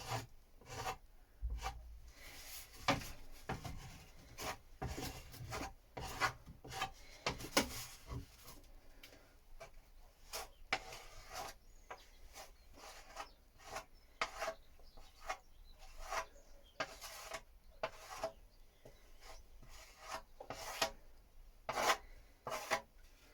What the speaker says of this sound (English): this isn't too hard to sand down. I can just whiz over that quickly.